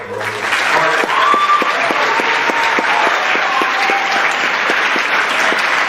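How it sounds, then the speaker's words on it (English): Audience applause for a presenter at a school time capsule event, loud and sustained clapping from a sizable crowd with a few distinct claps standing out near the front. "And how about a big round of applause for Ms."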